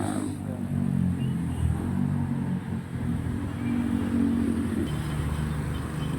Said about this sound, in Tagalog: grabe yung traffic. Oh, grabe yung dami ng truck.